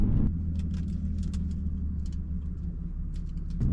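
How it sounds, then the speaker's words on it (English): Steady low engine drone of a supercharged V6 car on the move, with faint higher whine and scattered rattles and ticks over the rumble, heard continuously with no talking. "You guys can hear the supercharger noise."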